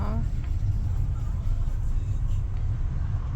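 A car pulling away from a stop on a driving exam course in Gölbaşı, Ankara, a steady low engine and road rumble at close range, with a voice talking over it.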